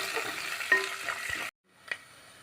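Curry leaves sautéing in a hot pan give a bright, crackling sizzle with a few soft stirring knocks, then the sound cuts to near silence before a faint sizzle and a single tap return.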